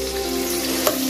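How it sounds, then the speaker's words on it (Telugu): Ginger garlic paste frying with onions in a pan, a steady dense sizzle running throughout the short stretch with one brief louder stir or pop near the end; no voices. "ఇది పచ్చివాసన పోయే వరకు కూడా కాస్త ఫ్రై చేస్తున్నాను"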